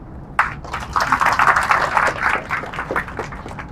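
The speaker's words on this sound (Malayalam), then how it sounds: "എല്ലാവരോടുമുള്ള നന്ദി നമുക്കൊന്ന് കൈയടിച്ച്" An audience at a stage event breaks into applause, a sustained wash of clapping that starts abruptly and carries on steadily at moderate volume, with no talk over it.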